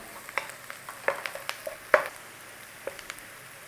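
Bacon, potatoes and garlic sizzle softly in a pan as flour is stirred through them, with irregular scraping and clacking strokes from the spoon standing out over the steady frying hiss.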